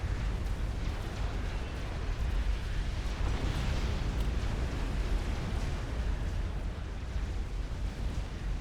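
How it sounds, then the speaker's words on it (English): Incoming missile fire in a Supreme Commander 3v3 ladder match: a dense, continuous roar of overlapping explosions and rumbling blasts at steady loudness throughout, with no clear gaps. "Look at all that inbound missile fire"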